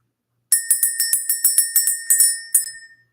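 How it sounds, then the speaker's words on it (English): A small bell is struck repeatedly to clear the energy, about a dozen bright, ringing strikes in a quick, steady rhythm, the last one left to fade out, loud and close with no talk. "let's just ring the bell."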